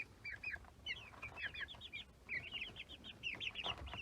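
Month-old chicks chirp and peep in quick bursts of high, rapid calls, close by and almost continuous, with a low background rumble.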